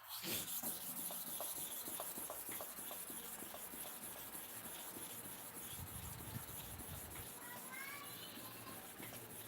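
Rotted, condemned clipper blade scraped back and forth on a sharpening stone, a series of rhythmic rasping strokes at close range, fairly quiet, with faint high tones near the end.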